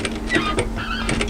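A sewing machine stitches a camisole seam, giving a short burst of close, even mechanical whirring with a faint buzzy hum.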